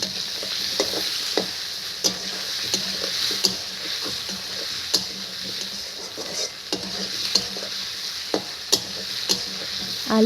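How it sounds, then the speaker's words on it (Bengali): Potatoes with turmeric and salt frying in a wok, a constant sizzle broken by sharp repeated scrapes and taps of a spatula as they are stirred, close and fairly loud, with no speech. "এটাকে ভালো করে নাড়িয়ে চাড়িয়ে আলুগুলোকে আমি ভাজা করে নেব"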